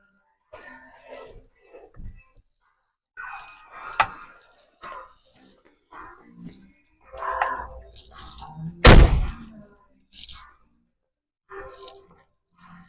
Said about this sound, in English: the door's going to close on me